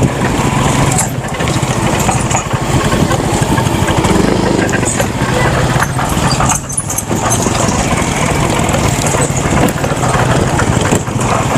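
A motorcycle engine idles steadily close by on a mountain road near the sea in Dingalan, Aurora, a continuous loud buzzing drone with no clear talk over it.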